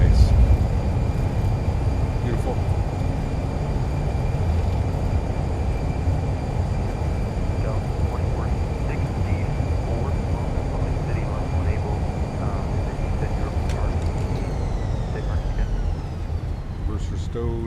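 A Fenix A320 in a flight simulator decelerates after landing with its thrust reversers deployed, a dense steady roar that slowly fades, with a voice talking over it.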